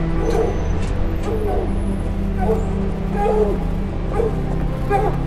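Repeated dog-like barks and yips from a creature mimicking dogs deep underground in an Antarctic video game, several evenly spaced calls over a loud low rumbling drone, fairly distant.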